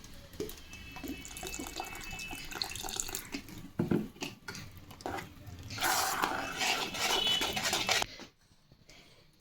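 Water runs from a tap into a bowl of batter for Bengali gola ruti pitha, a steady splashing flow with brief clatters that stops abruptly near the end.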